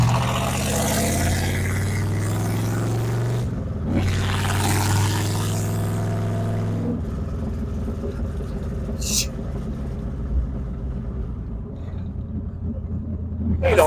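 A 1968 Corvette convertible with no power brakes or steering rumbles loudly as it drives, a deep steady engine roar with gear changes, while people talk over it inside the car.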